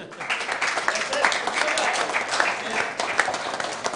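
A live New Year's Eve show audience gives a short round of applause, dense clapping that stays fairly even and moderately loud for a few seconds, with a voice faintly beneath.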